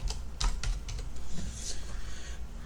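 Quick keystrokes tap out a short question on a keyboard, close and fairly steady, with a few irregular clicks and no talk.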